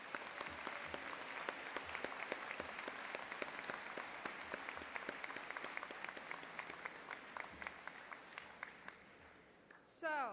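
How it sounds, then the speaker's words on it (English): A large audience at a 2018 undergraduate commencement ceremony claps in sustained, even applause that fills the hall for about ten seconds before tapering off. "please give us a round of applause for his time"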